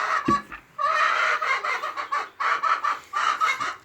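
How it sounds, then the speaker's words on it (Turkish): Hens clucking in a steady, overlapping chorus during egg collecting, close by, with a short rustle at the start and no talking. "Şöyle tavuklarımız da."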